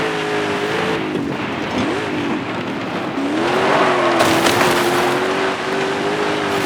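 Toyota Land Cruiser AT37 engine in Forza Horizon 5, loud continuous revving with rising and dipping pitch as it strains through the gears, with a brief tire squeal, heard close and alone.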